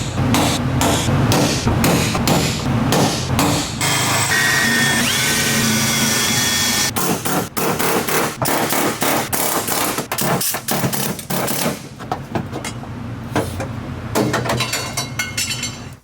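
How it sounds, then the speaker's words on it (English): Loud, rapid pneumatic air hammer rattles on metal continuously while cutting out a car's roll cage, with brief pauses and bursts of sharp chattering strikes near the microphone. "That's why I hate the air hammer sometimes."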